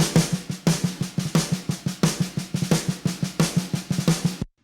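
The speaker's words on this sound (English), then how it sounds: "Later in the song, we introduce this snare roll." Rapid snare drum roll from a song, a steady stream of tight, evenly spaced strokes driving for several seconds before cutting off abruptly, close and alone.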